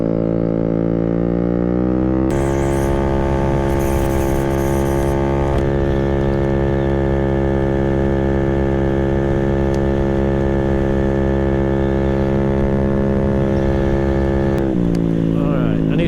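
A GY6 139QMB scooter engine with a Polini 95mm kit runs steadily at high RPM, a loud sustained droning whine that rises in pitch after a couple of seconds and holds before easing off near the end.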